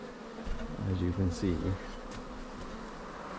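A honeybee swarm clustered at height, likely a primary swarm early in the season, hums as a steady low drone throughout, with someone speaking briefly over it near the start.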